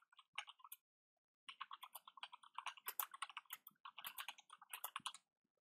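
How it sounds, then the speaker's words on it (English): Typing on a computer keyboard: a close, clear run of rapid key clicks in irregular bursts after a brief pause, with no voice. "I'm going to type a message."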